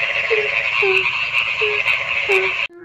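Frogs croak in a steady chorus, with several repeated short calls standing out over a dense, continuous buzz that cuts off abruptly near the end.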